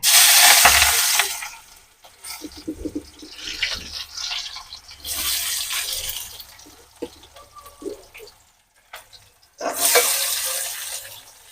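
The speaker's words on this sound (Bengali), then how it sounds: "এবার পেঁয়াজটা আমি ভাজবো, কড়াই পুরো গরম হয়ে গেছে।" Onions frying in a hot wok give loud bursts of sizzling hiss that rise and fade as they are stirred, with scraping and clatter between the bursts.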